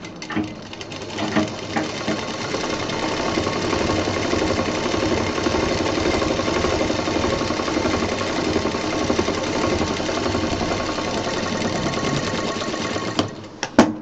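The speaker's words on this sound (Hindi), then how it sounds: "जिप तैयार की थी इसको इस तरह से मिला के सिल देंगे।" A sewing machine runs steadily for about twelve seconds, stitching a zip onto a college bag, with a fast, even mechanical whir, close and loud, starting and stopping with brief clicks.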